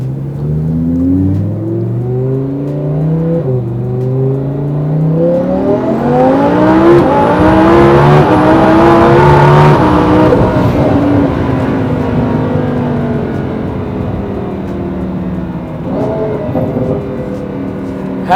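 A 1000hp Lamborghini Huracan accelerates hard on a private racetrack, its engine note climbing through several gear shifts up to a loud, sustained high-revving scream before easing off.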